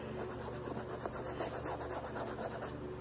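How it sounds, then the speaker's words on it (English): Stained white Vans shoes soaked in hydrogen peroxide are scraped, giving a continuous close rubbing and rasping texture with quick repeated strokes at low level and no talk. "Then I'm gonna scrape it to try to like see if it comes out."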